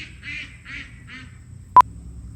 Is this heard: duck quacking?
yes